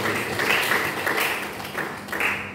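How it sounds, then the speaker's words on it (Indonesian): Applause in a school accounting classroom: a brief burst of scattered, moderately loud clapping that swells and fades in a few uneven waves, with no talk over it. "Beri tepukan yang dulu."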